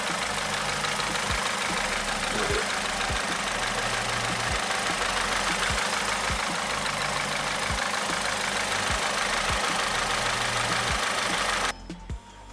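A car with an overheating problem idles steadily, its engine giving a low, even chugging pulse that stays loud until it cuts out abruptly near the end.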